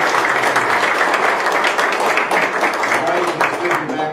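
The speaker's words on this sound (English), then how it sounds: "Give the ICBA a round of applause." Audience applause at an event announcing a business accelerator cohort: dense, steady clapping from a crowd, filling the whole clip loudly, with no pauses.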